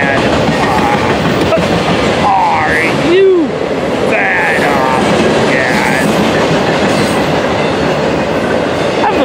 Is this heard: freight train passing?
yes